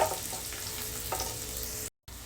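Garlic sizzling in hot leftover frying oil in a pan, a close, steady crackling hiss with small pops, cutting out briefly near the end.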